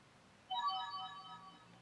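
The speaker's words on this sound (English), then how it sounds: "Oh, my phone." A phone ringtone starts abruptly and plays a steady electronic melodic tone with clear harmonics, moderately loud and close, in an otherwise quiet room.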